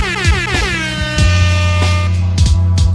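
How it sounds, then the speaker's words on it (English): A loud air horn blares in repeated bursts, a few quick blasts followed by a longer sustained one and more short hits, with no talking. "violently tapping my air horn button"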